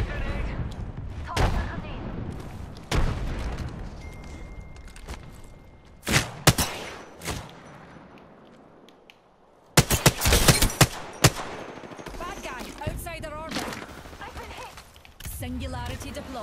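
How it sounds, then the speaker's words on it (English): Gunfire in Apex Legends, with sharp bursts and single loud shots spaced across the stretch, some in rapid clusters. Game voice lines and other sounds run between the shots. "They're shooting at me."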